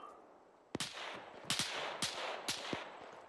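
Gunfire striking the player in ArmA 3 on an Afghanistan deployment: a sharp crack followed by about four more close, punchy impacts in an uneven burst over quiet ambient background, no voices.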